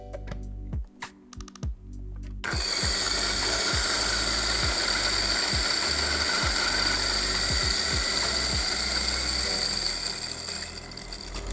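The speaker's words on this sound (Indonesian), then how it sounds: "Baru aku giling buat biji kopinya." A Latina LT-600N coffee grinder grinds coffee beans: after a couple of seconds of clicking and handling, a continuous loud, whining grind runs steadily for about nine seconds, close up, with rhythmic ticks beneath it.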